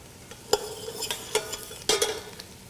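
Carrots added to onions frying in a pot for three bean minestrone, bringing a few sharp clattering stirs and scrapes over a low, soft sizzle, close and with no talk.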